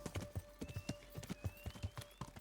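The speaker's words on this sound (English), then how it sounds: "I'll sit on a horse and then just gallop away" A horse gallops in Kingdom Come: Deliverance, its hooves pounding in a steady, rapid rhythm of close, distinct clip-clops alone over a faint ambient tone.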